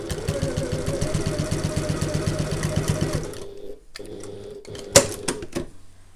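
A domestic sewing machine stitches a handbag seam at regular stitch length with back stitching, running in a steady rapid clatter for about three seconds, then stopping; a few sharp clicks and thumps follow as the fabric is handled.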